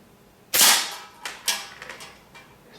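Shots from a Metro Grade Goods Hydra slingshot with wide fork tips: one sharp loud snap, then two lighter slaps and some softer clatter, close up with no talking.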